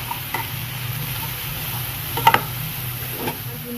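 Onion and capsicum frying in a pan make a steady low sizzle, with a couple of sharp spoon taps and scrapes partway through, close up and moderately loud.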